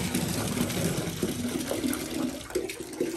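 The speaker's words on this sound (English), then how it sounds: "I done walked out the bathroom, forgot the water on." Water runs steadily from a bathtub tap into a tub that has filled all the way up, a continuous rushing splash at close range with no talking.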